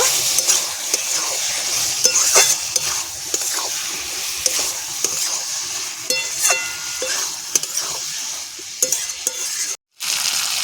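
Pointed gourd and prawns sizzle and fry steadily in a pan, a continuous hiss broken by repeated scrapes and clinks of a spatula stirring, with a brief silent gap near the end.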